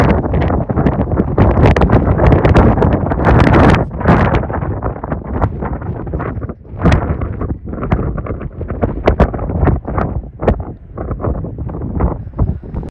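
Strong gusting wind along the sea cliffs of the Norwegian coast, roaring and buffeting the microphone in loud, uneven surges that ease and swell again throughout.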